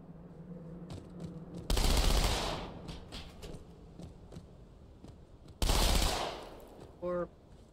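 Two loud bursts of rapid automatic fire, each lasting about half a second, while shooting enemies in Halo 2, followed by a brief third burst near the end, with quieter game ambience between them.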